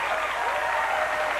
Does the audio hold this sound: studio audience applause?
yes